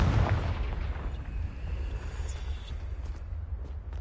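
A Confringo fire spell blast from Hogwarts Legacy erupts as a heavy, rumbling boom that rolls on as a sustained roar for several seconds, loud and close, with no voices.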